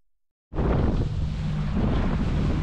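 Strong wind roars into the microphone after a brief silence, a loud, continuous buffeting rush with no voices, on the coast during a spearfishing trip in Majorca.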